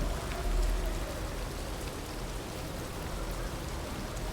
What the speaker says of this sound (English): Is that what I pictured I would hear? A bunch of rain.